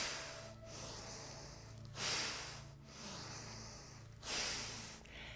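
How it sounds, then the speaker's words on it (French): Deep breaths are drawn in a slow breathing exercise: long airy inhales and exhales swell and fade about twice, close to the mic, soft and hissy over a low background hum. "On inspire."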